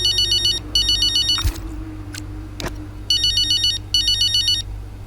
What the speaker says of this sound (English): So we should be getting a phone call at some point from someone.